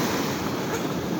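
Sea waves washing onto a beach, a continuous broad rushing surf noise with gusts of wind buffeting the microphone.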